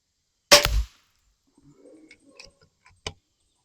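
An air gun fires a slug at a target: one loud, sharp report is followed by quiet mechanical clicks and handling noise, then a second smaller crack near the end.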